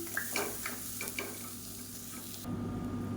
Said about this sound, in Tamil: இதை சேர்த்துட்டு வறுத்துக்கலாம்